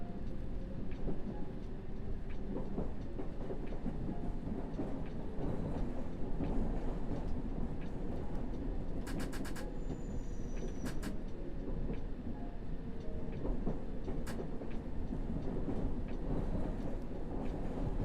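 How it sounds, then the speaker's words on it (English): A London Underground train in the World of Subways 3 game pulls away and runs on, a steady rumbling roar with faint clickety-clack and a few brief high squeals and beeps partway through, continuous and close, with no talking. "This train is ready to depart."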